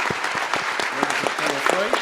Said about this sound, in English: can I get you to give you a round of applause and thank all of the members